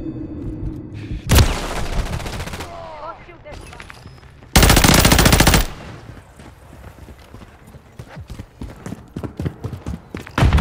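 Bursts of rapid gunfire in Call of Duty: Modern Warfare 3 team deathmatch erupt in loud, dense volleys, separated by quieter stretches of scattered clicks and thuds.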